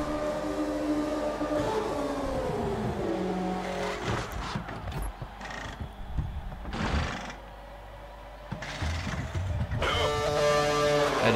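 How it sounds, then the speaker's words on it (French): In the F1 2012 racing game, a car engine whines at high pitch, drops in tone and goes choppy as the car slows into the pits for a tyre change, then rises again briefly near the end. "Allez, on rentre au stand pour changer les roues et les pneus."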